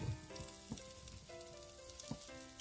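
Food sizzling in a greased pan at home while pieces are flipped with a spatula, a faint steady crackle with occasional soft taps and scrapes, over a quiet tonal hum.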